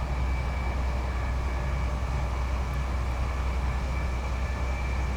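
Steady, dense rumble of a train in Train Sim Classic on the Manchester Piccadilly to Liverpool Lime Street route, a continuous low drone with a faint high whine held evenly throughout, without voices.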